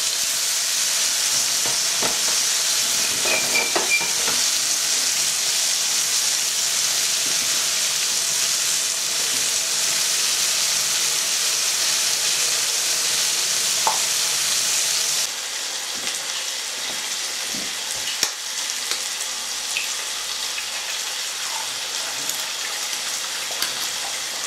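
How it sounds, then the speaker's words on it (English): Chips crackle and sizzle steadily in hot oil in a non-stick pan, a dense, bright frying hiss that holds close and loud for the whole stretch, easing slightly partway through, with occasional faint clinks and no voices. "I'm going to put the chips back in again"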